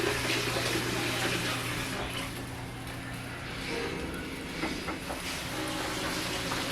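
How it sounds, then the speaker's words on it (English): Tap water runs steadily into a sink while hands are washed in a home kitchen, a continuous close rushing stream with slight splashing shifts and no pauses. "Had to wash my hands."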